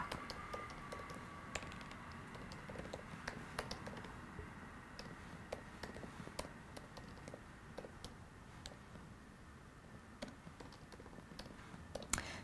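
Arduino code being typed on a computer keyboard, a quick, irregular patter of soft key clicks running throughout, close but fairly quiet, with no talking.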